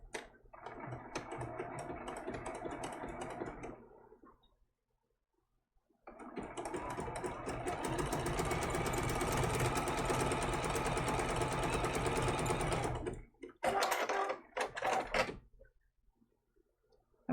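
Close, steady whirring of a sewing machine stitching a small baby turtle applique onto fabric in two long runs separated by a pause, ending with a few short stop-start bursts, with no talking.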